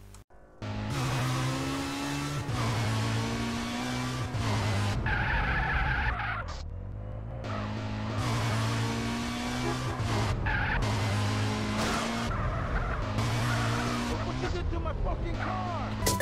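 BMW M3 GTR race car engine in the Rigs of Rods driving simulator, an unconvincing modded sound, droning loudly and steadily throughout with tire skidding and brief dips in revs.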